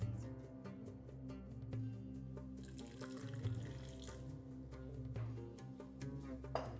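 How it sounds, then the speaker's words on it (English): A tap runs steadily as water is added for sautéing beef with spices before slow cooking a Moroccan beef tagine, a continuous moderate flow under kitchen hum with faint clinks. "just a little bit of water to sauté the meat with the spices"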